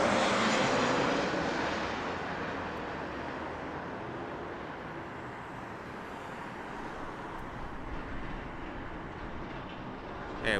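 An American Airlines airliner arriving from Charlotte at Las Vegas Harry Reid International Airport passes with a broad rumbling engine roar, loudest at first and easing slightly before swelling again, steady throughout.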